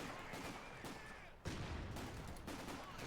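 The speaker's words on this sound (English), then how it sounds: "Grenades being used to punch his way through VonIvan's forces." Grenades exploding amid gunfire in the strategy game Company of Heroes 2, heard as a dense, distant battle din with a heavier blast about halfway through and no speech.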